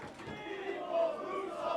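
A wrestling crowd at a Beyond Wrestling show, during Ricochet versus JT Dunn, shouts and roars in a sustained, blended din that swells briefly near the middle, with no single voice standing out.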